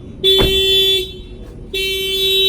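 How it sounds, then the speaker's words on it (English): A car alarm, set off by turning the key in the door lock cylinder, blares loud, steady tones in two bursts separated by a brief pause, close by. "The minute I turn the key in the cylinder, that will fire off the alarm."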